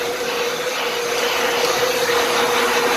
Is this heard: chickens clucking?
no